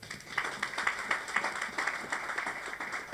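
Audience clapping at a church gathering, rhythmic and fairly faint, with hand claps arriving in an even, pulsing beat as if several people clap in unison.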